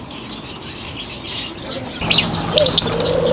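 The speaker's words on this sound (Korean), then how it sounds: "앵무새 맞네." Birds at an outdoor pet market, a parrot among them, chirp and coo near and far over a steady background murmur. A few sharp calls stand out, and there is no talking.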